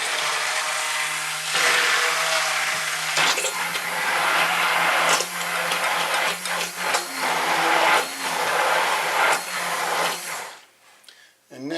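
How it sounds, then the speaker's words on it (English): An immersion mixer whirs loudly through crepe batter for about ten seconds, its motor pitch wavering as it works, then cuts off abruptly, leaving a brief quiet before some handling noise. "I'm going to use an immersion mixer that I have."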